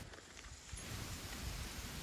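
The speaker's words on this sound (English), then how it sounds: "at the moment the rain is coming straight down" Heavy rain falls straight down in a dense, continuous hiss with no break, swelling slightly after the first moment.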